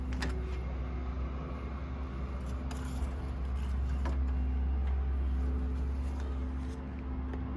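A 2004 Ford Escape V6 idles steadily and quietly, a low constant hum with a faint higher tone, heard from close by with scattered small clicks and no talk.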